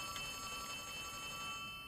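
Telephone ringing inside the Poppy Playtime Chapter 3 video game, a steady electronic ring with sustained tones over a low background hum, moderately quiet and continuous with no talking.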